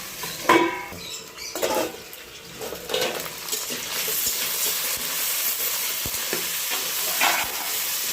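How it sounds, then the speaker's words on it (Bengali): Potatoes frying in a pan with bay leaf, five-spice and asafoetida, a gentle sizzle beneath repeated scraping and clattering stirs of a utensil against the pan, irregular strokes close by with no talking. "আলুটা একটু ভাজা হোক দু মিনিট ঢাকা দেবো"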